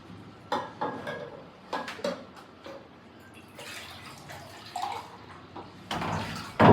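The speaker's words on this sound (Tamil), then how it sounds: "வந்து ஒரு ஆறு கப் ஏழு கப் தண்ணி சேர்க்கணும்" Water being poured into a cooking pot in a home kitchen, splashing and pouring mixed with clinks and knocks of pots and utensils, irregular and close, with no talk.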